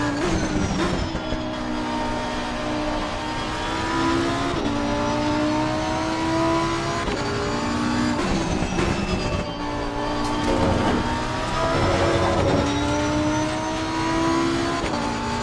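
A Ferrari race car engine in the Assetto Corsa Competizione racing game revs loud and close throughout, its pitch climbing and dropping through gear changes without pause.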